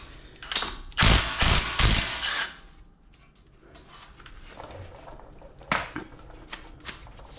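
A ratchet drives a 24mm socket on Jeep suspension, with a loud burst of rapid mechanical clicking for about a second, then quieter, sparser clicks and a final short ratcheting burst.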